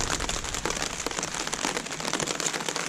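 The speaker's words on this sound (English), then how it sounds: "we knew we were getting rain" Rain pattering steadily on a tent pitched on a hillside along the Appalachian Trail in Pennsylvania, a dense, close, even drumming of drops with no talk.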